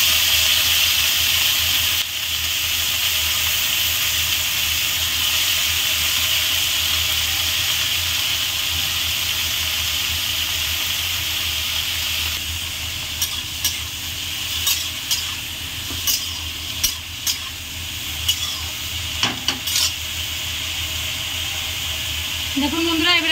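Teasel gourd, jackfruit seeds and chillies fry in hot oil with a constant hiss and sizzle, later broken by clinking stirs and scrapes of a utensil, with a voice briefly heard near the end.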